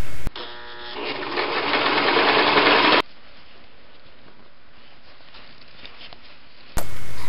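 A sewing machine stitching elastic onto fabric, running fast with a steady whirring buzz that builds for about three seconds and then stops abruptly, leaving quiet room hiss.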